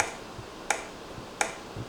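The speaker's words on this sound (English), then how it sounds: "I'm doing a slow applause for you, like a slow clap" A sarcastic slow clap from one person in the woods, two sharp separate claps spaced well apart against quiet background.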